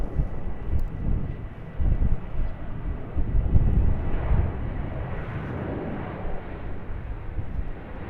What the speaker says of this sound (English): a Boeing 737-800, speeding down runway 25